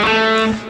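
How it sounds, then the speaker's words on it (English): A distorted electric guitar plays a major scale, each note sustained and buzzing with heavy overdrive, moving up quickly in a single short run played alone. "So normally your major scale would sound like this."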